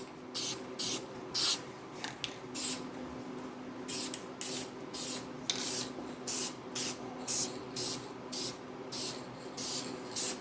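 Short bursts of spray paint hiss onto a 1968 Pontiac GTO 400 oil filter housing, a dozen or so quick, even passes at a steady rhythm, close and moderately loud.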